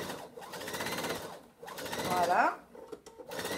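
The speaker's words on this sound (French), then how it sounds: "Ici, je vais me faire une petite piqûre nervure pour maintenir la pochette fermée" A sewing machine runs in quick bursts, stitching a pin tuck to hold a fabric pouch closed, with a short pause between runs and a voice briefly speaking over it.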